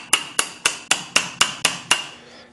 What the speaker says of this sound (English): Go get my hammer.